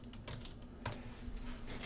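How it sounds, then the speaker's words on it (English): Keys on a computer keyboard are tapped in a quick, uneven burst of clicks, close and fairly quiet, with a faint steady hum underneath and no talking. "by just typing in its name like so"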